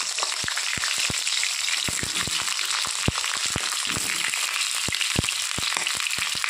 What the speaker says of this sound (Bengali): তেলটা গরম হয়ে গেছে, তেলের মধ্যে ছেড়ে দেব কেটে রাখা আলুগুলোকে